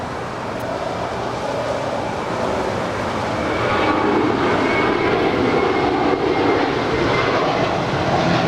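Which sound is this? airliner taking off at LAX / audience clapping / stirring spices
airliner taking off at LAX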